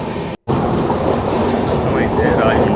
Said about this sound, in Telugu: సో ట్రైన్ అయితే రాజమండ్రి స్టార్ట్ అయిపోయింది.